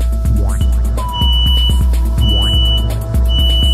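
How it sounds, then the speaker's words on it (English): A Class 2 biosafety cabinet's audio-visual alarm beeps loudly and steadily, with repeated electronic tones and pulses over the running cabinet's hum. "The audio-visual alarm system is also on."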